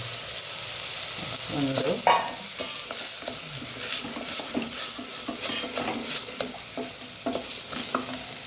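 A moong dal mixture fries in ghee while it is stirred, a steady low sizzle under frequent scraping and clinks of a spoon against the pan, close by.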